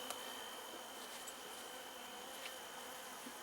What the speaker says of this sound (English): Got the feeling it's going to be one of these days when these bees are not happy.